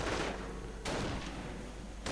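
Faint bursts of MG42 machine gun fire echo in a World War II strategy video game, about three short rattling volleys spaced roughly a second apart, distant and low in level.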